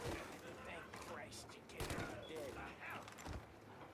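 Gunfire in the Mafia: Definitive Edition video game, a few sharp shots cracking amid a busy game soundscape with speech-like sounds mixed in.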